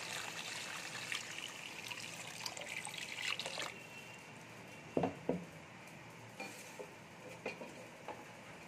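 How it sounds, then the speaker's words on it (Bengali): Water poured into a cooking pot for a soya bean curry, a steady splashing pour for a few seconds, then quieter stirring and light clinks of a utensil against the pot, close and fairly faint. "এবারে জলটা দিয়ে দেব।"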